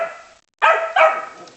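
Close, loud barking from a dog encountering turtles: one bark, a short silence, then two more barks in quick succession.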